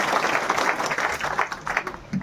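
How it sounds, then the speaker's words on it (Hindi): An audience at a martyrdom-day memorial ceremony bursts into applause, a dense clatter of many hands with some individual claps standing out, moderately loud and near. "जोरदार तालियों से हम उनको बधाई देते हैं"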